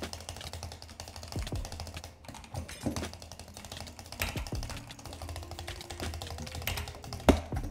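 Rapid clattering of computer keys and clicks with no voices, ending in one sharp, louder bang of a mouse against the keyboard.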